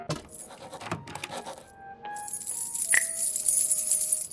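Keys jangle in the video game Frequency Missing, a bright metallic rattling that starts faint and swells into a sustained shimmer, with a few clinks and tones over a quiet game backdrop.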